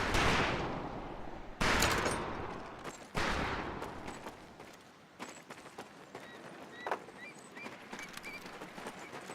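Rifle gunfire at a shooting range in the Medal of Honor video game, with a few loud close reports followed by scattered fainter shots and clatter that thin out over time.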